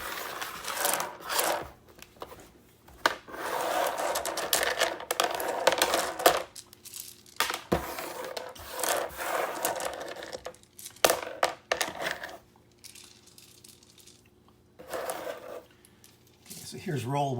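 Fifty small cubes rolled and tumbling together for a biology lab survival simulation, giving repeated clattering, rattling bursts of hard little pieces, with a voice speaking between rolls.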